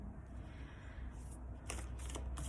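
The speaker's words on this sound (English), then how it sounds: "I'm gonna start here by doing a little bit of little tiny meditation for you while I shuffle the cards." Tarot cards are shuffled softly and close, with faint riffling and a few light flicks toward the end over a low steady hum, with no talk.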